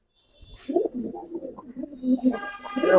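A silver pigeon coos in soft, low, rolling calls close by, repeated steadily across the clip.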